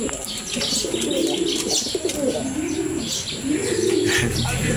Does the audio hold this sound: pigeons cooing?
yes